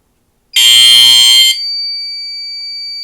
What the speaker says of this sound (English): that single stroke chime